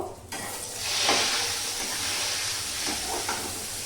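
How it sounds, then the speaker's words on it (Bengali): Cashews and raisins sizzle in hot oil with cinnamon and cloves while being stirred, producing a bright hissing crackle that swells after a quick start and keeps going with soft scraping strokes, close by and with no voices. "কাজু কিশমিশ দিলে একটু টেস্টটা বাড়বে, সেই জন্য কাজু কিশমিশ দিয়ে একটু নেড়ে নেব।"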